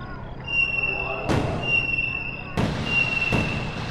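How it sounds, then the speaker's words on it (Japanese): Fireworks in the dating-sim game Tokimeki Memorial 3 burst in three sharp booms over a lingering whistling tone and soft background music, each blast spreading and fading before the next. "そろそろ花火が始まる時間みたい。"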